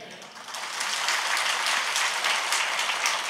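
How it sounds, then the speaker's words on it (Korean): Applause from a church congregation at a presbytery thanksgiving service rises after a moment into a steady, fairly loud wash of clapping that holds evenly to the end. "박수소리 작으면은 이거 큰일 나는 겁니다."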